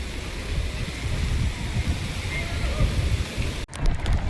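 Heavy monsoon rain pours near a waterfall in Lonavala, a dense, steady roar of water that runs unbroken and loud for several seconds before a sudden short dropout.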